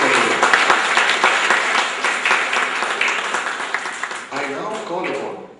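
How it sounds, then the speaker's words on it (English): An event audience applauds the judges with sustained, fairly close clapping that stays strong for several seconds, a voice speaking over it near the end as the clapping tapers off. "Ladies and gentlemen, please give a final round of applause to all of the judges for today."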